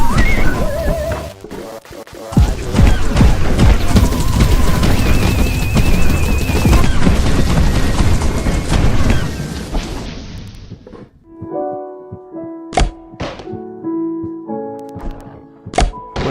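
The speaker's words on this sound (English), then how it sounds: "My fire cannons have malfunctioned." Fire cannons in The Upturned video game blast in a dense, loud barrage of booming thunks for about ten seconds, then give way to sparse isolated shots and ringing tones.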